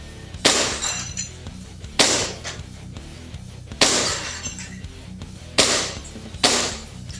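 Five sharp glass shatters spaced about a second and a half apart, as steel BBs hit Red Horse beer bottles, each a bright crash trailing into tinkling fragments, close and loud.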